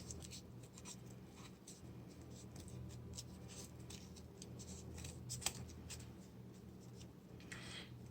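Small scissors snipping through coffee filter paper to shape flower petals, a quiet series of short, crisp cuts and paper rustles over faint room noise, with no talking.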